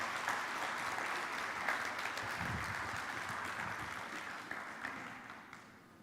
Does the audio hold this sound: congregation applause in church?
yes